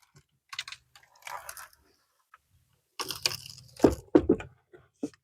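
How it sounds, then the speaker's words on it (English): Metal stairs on a DIY folding truck camper are unpinned and fold down: a few light clicks and rattles, a short quiet gap, then a cluster of clanks and knocks, close by with no voices. "pull this clip, pull this pin out. Stairs fold right down."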